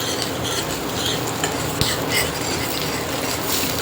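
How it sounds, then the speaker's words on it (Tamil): Garlic and chopped green chillies sauté in a pan for a barley soup, a close, continuous sizzle with the scrape and clatter of a spoon stirring against the metal, no speech. "2 க்ரீன் சில்லியை பொடியாக கட் பண்ணி வச்சுருக்கேன், அதையும் சேர்த்து நல்லா வதக்கி விட்டுக்கலாம்."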